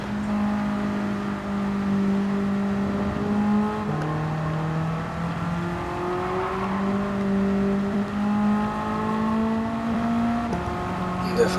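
A tuned BMW M3 E30 race car engine in Gran Turismo 7 drones steadily and loud, pitch climbing and dropping through gear changes for the whole stretch, with a voice talking over it.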